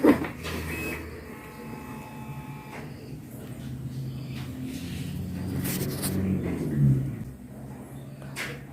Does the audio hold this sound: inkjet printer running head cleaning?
yes